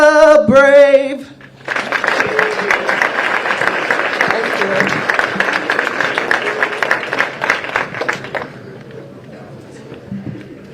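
A crowd at the opening ceremony of the 2023 PDGA disc golf Worlds applauds after the national anthem. A sung note comes first, then dense clapping and cheering that thins and fades, with a voice briefly over the end.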